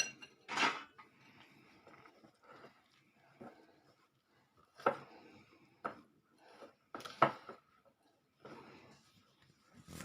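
Milk and flour are mixed in a bowl with a utensil, heard as intermittent clinks and scrapes against the dish in separate bursts, fairly quiet and close, with no talk.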